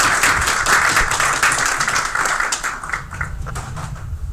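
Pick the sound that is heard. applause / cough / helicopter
applause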